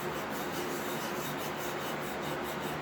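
A hand plane blade's bevel is honed by hand with steady back-and-forth strokes, giving a continuous close, even rasping rub with no pauses and no voices.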